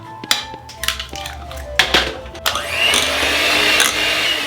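An electric mixer whirs through San Sebastian cheesecake batter with eggs, lemon and vanilla, starting in short bursts, then running steadily with a bright, grinding whine.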